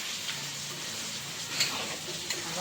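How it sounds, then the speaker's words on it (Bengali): A pot of fish-head cabbage curry and a pan of chital fish gravy sizzle softly and steadily, with faint stirring clicks and a couple of small taps over the low, even frying hiss. "রান্না হচ্ছে এখন মাছের মাথা দিয়ে বাঁধাকপির তরকারি আর চিতল মাছের গ্রেভি"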